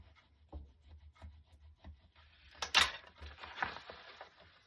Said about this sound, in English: give that a really nice burnish